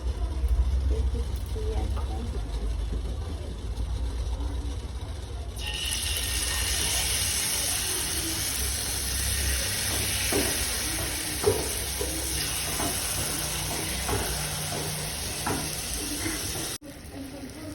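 Jalebi batter fries in hot oil with a steady, close sizzling hiss that swells after a quieter start and runs on continuously.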